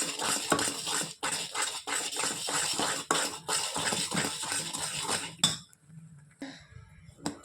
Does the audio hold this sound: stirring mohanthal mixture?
yes